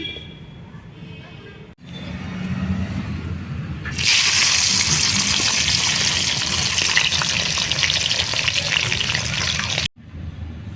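Whole cumin seeds hit hot oil in a wok, setting off a loud, steady sizzle that fills the middle of the clip. Quieter kitchen noise with faint talk comes before it, and the sizzle cuts off abruptly near the end.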